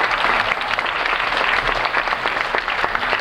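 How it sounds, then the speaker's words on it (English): An audience at a summer day camp claps for the parents in attendance, a dense and steady burst of applause filling a few seconds. "have everybody give the parents a round of applause for coming"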